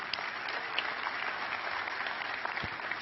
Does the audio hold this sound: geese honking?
no